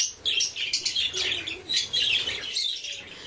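Birds at a private aviary housing pheasants and parrots keep up a dense, continuous chorus of high chirps and tweets, with occasional lower calls and some wing flapping, close by and with no voices.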